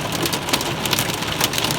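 Heavy rain mixed with hail pelts surfaces during a July rainstorm with lightning, a loud, dense, continuous drumming with sharp individual impacts scattered throughout.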